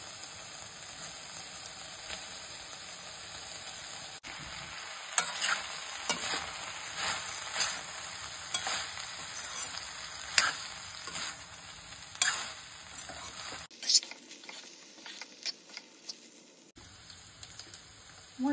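Pre-cooked rice, seasoned with soy sauce, is stir-fried in a pan for vegetable fried rice: a soft, continuous sizzle is broken by repeated scraping stirs, close up and without talk.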